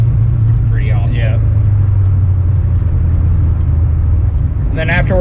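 A 600 hp LS7-powered Corvette Z06 cruising on a highway with a cam surge fault, its engine a steady loud low drone with road rumble throughout, and someone speaking briefly over it near the start and again at the end.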